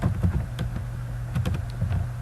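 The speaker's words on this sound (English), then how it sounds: "I'm going to type" A computer keyboard clatters with quick, irregular keystrokes, a few sharp taps coming in short bursts, close and fairly clear over a low background hum.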